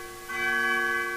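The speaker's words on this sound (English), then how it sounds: "hear bells" A sustained, ringing bell tone with bright overtones swells and holds steadily in a corridor scene of the video game Undertale, heard alone without talk.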